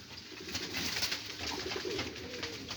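Pigeons kept for auction coo softly and repeatedly at close range, low throaty calls layered over a steady hum and faint rustling in the coop.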